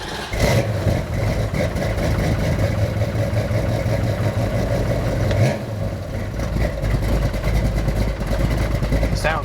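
A revived high school car's engine runs on its first test drive, a steady mid-pitched drone with slight rises in revs, close and continuous, with a voice talking over it.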